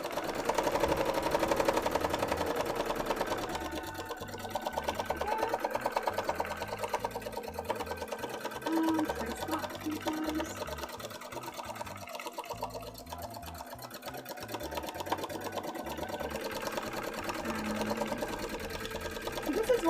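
A sewing machine stitches cosplay fabric in steady, continuous runs close by, its rapid mechanical whir lasting nearly throughout while a person talks over it.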